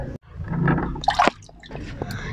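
Soft drink bottles are dunked into a tub of water at a small sari-sari store to cool them, giving brief splashy gurgles and drips, a few close liquid sloshes.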